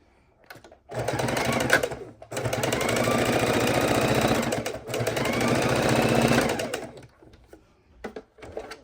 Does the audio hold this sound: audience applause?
no